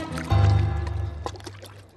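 A test tube hits water as a sound effect in a suspenseful audio drama: a sudden deep plunk and splash, then a fading gurgle and faint trickling.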